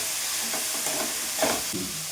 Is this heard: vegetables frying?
yes